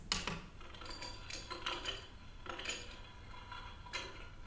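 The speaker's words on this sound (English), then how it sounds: "the other one is for ice cubes" A toy drink dispenser from an American Girl doll set plays its ice-cube sound, a few faint, separate clinks and rattles spaced across several seconds, heard alone without speech.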